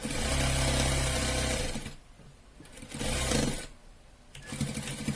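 A sewing machine stitches fabric for a baby frock, whirring steadily in loud bursts that stop twice and restart, with brief pauses between runs.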